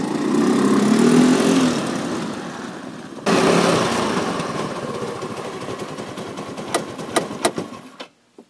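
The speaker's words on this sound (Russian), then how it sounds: "Двигатель работает тихо, то есть глушитель хорошо справляется." A snowmobile engine idling quietly through its muffler: a steady, close mechanical drone that briefly cuts out and resumes, then fades with a few sharp clicks before falling silent.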